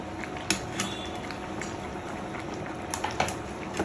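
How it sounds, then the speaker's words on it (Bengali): Meat boiling in a pot: a steady bubbling, hissing simmer with a few light clinks of metal utensils against cookware, close by and without talk. "এবার মাংস সিদ্ধ করা লাগে।"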